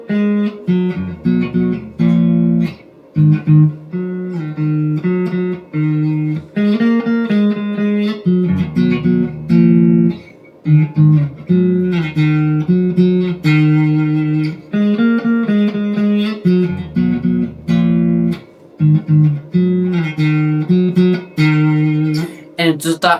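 Guitar playing the riff: a repeating, rhythmic pattern of clean plucked notes and short chord stabs, played up close and steadily with brief pauses between phrases, no talking.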